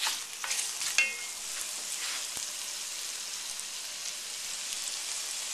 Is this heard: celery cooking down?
yes